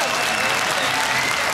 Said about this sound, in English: So, round of applause for Forrest.